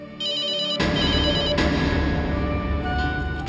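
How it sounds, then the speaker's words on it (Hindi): Telephone ringing indoors in a home, an electronic ringtone with repeated bright tones that sounds loud and close, with no voices over it. "चैतन्य का फोन होगा बेटा"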